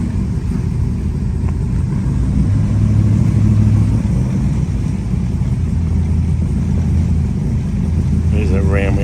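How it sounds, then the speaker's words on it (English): A 1970 Pontiac Trans Am with a Ram Air III engine idles at a summer car show, a steady loud low rumble that holds throughout with crowd noise around it. "There's a Ram Air 3 engine."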